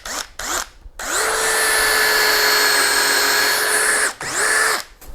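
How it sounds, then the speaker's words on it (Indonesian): Doliz BD637 20V cordless brushless drill countersinking a hole, with short whirring bursts at the start and then a long, steady, high-pitched spin of about three seconds before it stops and briefly revs again, close and loud. "Ini saya menggunakan countersink dulu pertama."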